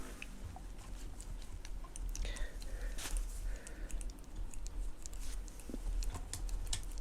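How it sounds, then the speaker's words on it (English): Rudy the pet munches and chews close to the microphone, producing soft, irregular crunchy clicks and wet smacks that go on continuously in an otherwise quiet indoor room. "if you can hear like some munching on the microphone, that is Rudy"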